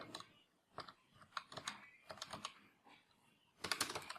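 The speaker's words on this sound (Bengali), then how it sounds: "জি বাটনটা দুইবার প্রেস করতে হবে" Computer keyboard typing in a Bangla Bijoy Unicode session in Illustrator, with the G key pressed twice: sparse, crisp key clicks in irregular bursts, close and fairly quiet, ending in a denser flurry of taps.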